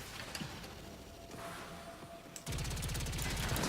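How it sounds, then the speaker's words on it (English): Bursts of video game gunfire, scattered shots at first, then a dense, loud rapid-fire volley that continues steadily to the end. "Follow the gunfire."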